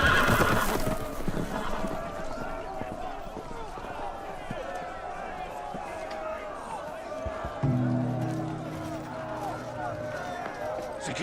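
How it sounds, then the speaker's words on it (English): Loose horses whinny and snort in a Game of Thrones video game scene, with clopping hooves and a busy ambient backdrop, and voices shouting over the commotion. "The horses! They're loose!"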